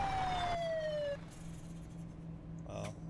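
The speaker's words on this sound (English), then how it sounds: "They get distracted by sirens pretty easily." A police siren from the video game Arma 3 wails loud and close in a single descending tone, then cuts off, leaving low ambient game noise and a brief burst near the end.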